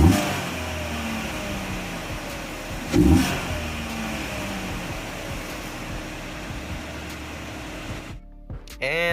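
Chevy Sonic engine idling with a K&N air intake fitted, a steady close hum with faint talk and a brief bump around three seconds before the sound cuts out near the end.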